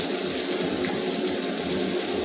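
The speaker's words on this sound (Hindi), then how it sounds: "अब इसमें थोड़ा सा पानी ऐड कर देते हैं।" Water poured into a pan of kadhi pakora during village-style cooking, a steady close liquid pour and splash running continuously without pause.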